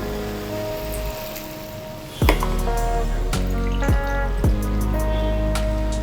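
Water, about one and a half tumblers, poured over rice for an oil-less vegetable biryani, heard as close splashing and dripping with a few sharp clinks against the vessel, no one speaking.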